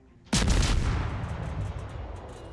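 A World of Warships destroyer, the Blyskawica, fires naval guns at the battleship Nagato: one sudden, loud salvo that rolls into a long rumbling decay lasting over two seconds.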